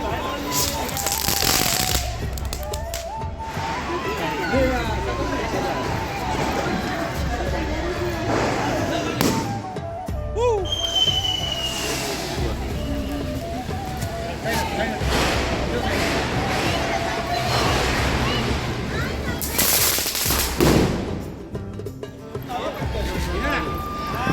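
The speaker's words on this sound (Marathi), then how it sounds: "सगळी लहान मुलं इथे फटाक्या वगैरे वाजवत आहेत" Diwali firecrackers set off by children in a housing society pop and bang repeatedly, some sharp and close, others distant, amid continuous chatter and voices of a crowd.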